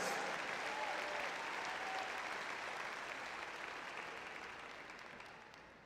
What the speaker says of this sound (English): Let's have a big round of applause for our athletic directors, Academic Excellence Award winners